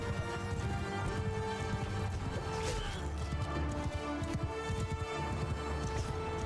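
Cavalry horses charging in a medieval battle of the video game Mount & Blade II: Bannerlord, a dense thundering clatter of hooves mixed with clashing combat noise, continuous and fairly faint.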